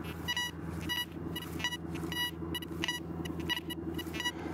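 Raptor R4 Gold metal detector with a 27 coil giving repeated high, thin pulsing tones over a low engine-like rumble, the beeps coming in quick regular bursts.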